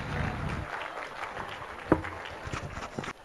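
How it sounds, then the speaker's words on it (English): A seminar audience greets a speaker with fairly faint, scattered applause in a hall, thinning out over a few seconds, with a sharp knock partway through. "With a big round of applause, please welcome sir."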